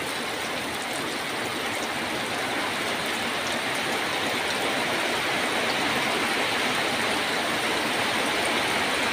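Steady rainwater pouring and splashing during a rain shower, a loud continuous wash of falling water with no break and no talking.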